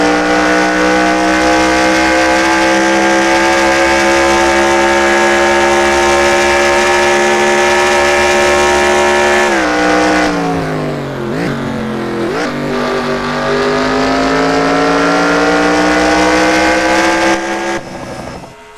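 On-board engine of an ARCA stock car at Road America in a racing video game, a loud sustained roar holding high revs, dipping through a gear change and braking near the middle before climbing again.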